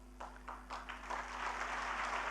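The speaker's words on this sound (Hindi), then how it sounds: "तालियां कम बजी" A sparse audience gives a scattered round of applause at an event. A few separate claps come first and then blend into a thin, fairly quiet wash of clapping over a steady electrical hum.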